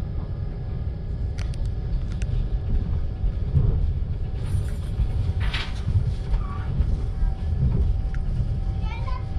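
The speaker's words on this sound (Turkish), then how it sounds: "Benim indiğim tren olabilir büyük ihtimalle." An ICE high-speed train passes at a station on the Leipzig to Berlin line, a deep continuous rumble with a few faint squeaks on top, while someone talks over it.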